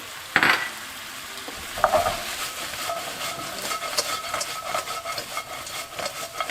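Pork stir-fried in a wok with sweet and sour sauce and spring onion, Chinese style, giving a steady sizzle under continuous stirring and scraping, with two sharp utensil clanks near the start.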